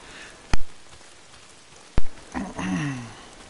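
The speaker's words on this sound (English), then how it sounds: "Oh, damn rain. If it's not the freaks. It's the goddamn rain." Rain hisses steadily in the video game Days Gone, broken by two sharp, loud clicks and followed by a brief voice-like sound.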